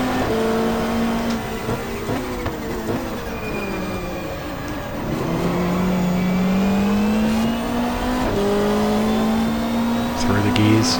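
Race car engine in GTR2, a 1995 Australian Super Touring Championship round at Mallala, climbing steadily in pitch through the gears. The engine is loud and continuous, and someone talks over it.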